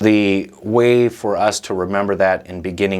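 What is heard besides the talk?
No everyday noise stands out behind the speech.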